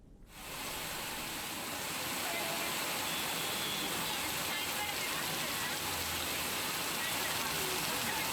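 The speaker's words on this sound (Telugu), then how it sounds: "ఇక మధ్యాహ్నం నుంచి నగరంలో పలు ప్రాంతాల్లో భారీ వర్షం పడుతోంది." Heavy afternoon rain pours steadily across Hyderabad, a dense, constant hiss that swells in the first second and then holds at full strength with no break.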